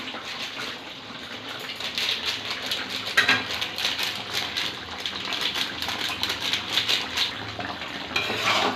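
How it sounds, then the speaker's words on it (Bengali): Spoon stirring garam masala into a chicken and jackfruit curry in a pan, producing continuous wet sizzling and scraping with occasional metallic clinks against the pan, fairly close and steady throughout without speech. "গরম মশলা মাংসের সঙ্গে মিশিয়ে দেব।"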